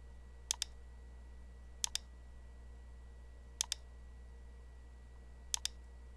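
Computer mouse clicks during video editing come in four quick double-click pairs, sharp and close, spaced evenly apart over a faint steady hum.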